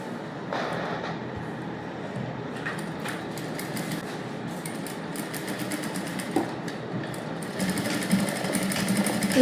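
A sewing machine stitches the neck of a princess-cut blouse, a steady continuous mechanical whir with rapid needle chatter heard close up for the whole stretch, growing slightly louder near the end.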